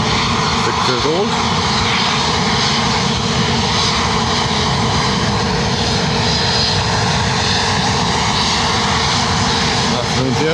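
Airbus A320neo jet engines at Lanzarote Airport, a loud, steady, close roar filling the whole stretch with a constant broadband rush and a low drone, without any pause.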